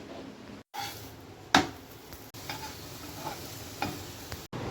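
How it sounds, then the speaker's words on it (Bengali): Thick-cut broad beans fry in a pan, a soft, steady sizzle heard close but faint, broken by a few sharp clicks and brief utensil taps. "সিমটা একটু মোটা মোটা করে ভেজে দিলাম"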